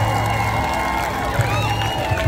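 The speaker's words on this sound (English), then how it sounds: "Give a big round of applause." A crowd at the Mango Melee festival on St. Croix cheers and claps for a repeat champion, a continuous wash of noise under a loud, steady hum and sustained tones.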